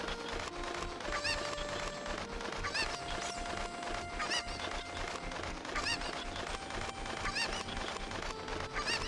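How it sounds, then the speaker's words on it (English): Cuckoo chickens in Zelda: Ocarina of Time, repeated honking clucks and squawks in an uneven rhythm over busy game background sound, fairly faint. "We're gonna come grab this cuckoo."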